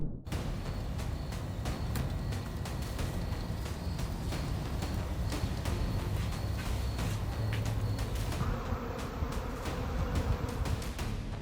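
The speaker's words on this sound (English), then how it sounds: "A home becomes an international airport for bees. Thousands of buzzing mini aircraft fill the sky over Salt Lake City." A swarm of thousands of bees buzzes over a home in Salt Lake City, a dense, continuous outdoor drone with scattered crackling bursts running throughout.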